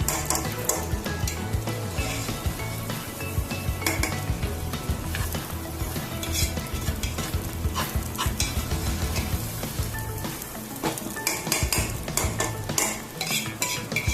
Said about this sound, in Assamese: এইখিনি মই 10 মিনিটমান সময় ধুনীয়াকৈ ভাজি ল'ম